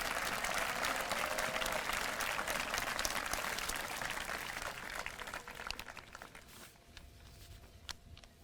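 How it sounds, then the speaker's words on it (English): Sustained audience applause at a 2022 high school commencement ceremony for the Schuylerville CSD class of 2022, a dense, steady clatter of many hands that thins and tapers toward the end. "Let's give a round of applause to Mr."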